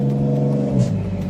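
A car's engine revs with a steady harmonic drone as it goes by, the pitch dropping slightly toward the end as it passes.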